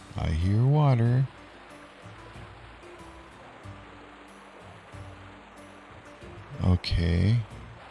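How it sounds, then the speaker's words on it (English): Floodwater rushes in the city-building game Settlement Survival, a steady broadband wash of flowing water held low under the mix. A voice speaks briefly at the start and again near the end. "I hear water."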